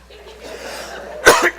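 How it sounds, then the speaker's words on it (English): A person gives a short, close cough, a quick double burst at the end, after a stretch of quiet room tone. "he's coughing"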